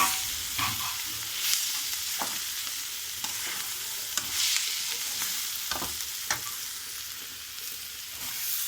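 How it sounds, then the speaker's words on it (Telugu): Ridge gourd frying in a pan with turmeric, a steady close sizzle broken by several sharp scraping stirs of a spoon against the pan, with no voices. "ఇప్పుడు మనం బీరకాయ వేసుకుందాం."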